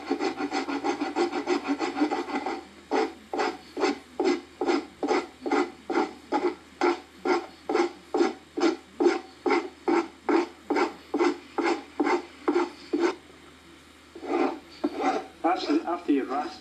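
Hand rasp filing the edge of a leather English saddle in a UK saddlery workshop, about twenty-five regular close strokes in steady rhythm after a brief start, then a pause and a few final strokes.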